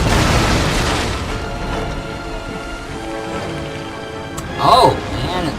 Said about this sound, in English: And here goes the shot.